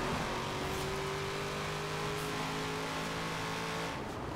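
A Corvette Z06 with a big V8 engine drones and revs steadily in the racing game Forza Horizon 4, a loud continuous engine tone with no talk over it.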